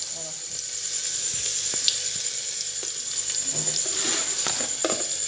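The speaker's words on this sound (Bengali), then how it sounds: "এবার রসুনটা লাল লাল হয়ে গেছে" Garlic fries in hot oil in a home kitchen, a continuous close sizzle with scattered crackles and spoon scrapes throughout.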